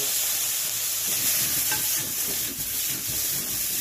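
Smoked eggplant sautés with soy sauce in a hot pan, a dense, steady sizzle and frying hiss with light stirring scrapes, close and continuous throughout.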